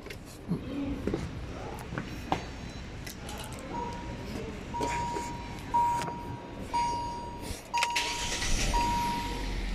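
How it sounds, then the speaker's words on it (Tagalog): A 2015 Hyundai Accent, in for air-conditioning condenser repair for a refrigerant leak, is started up in a workshop; clicks and mechanical sounds lead into a faint engine catch and idle, with talking throughout. "Paandarin mo na natin yung sasakyan."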